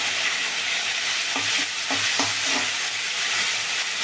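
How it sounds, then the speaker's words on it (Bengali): Prawns frying in oil in a pan, giving a steady close hiss with a few soft stirring clunks partway through, no voices. "চিংড়ি মাছগুলো ভেজে নিচ্ছি, এই তেলের সাথে ভেজে নিচ্ছি"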